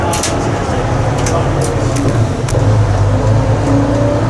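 A semi truck drives along with a steady engine drone and a gear change, while a voice talks over it.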